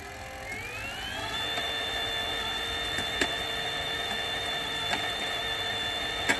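An electric bike's wheel hub motor running on minimum assist gives a steady electric whine that rises in pitch, then holds level, with a few faint ticks over a low background rumble.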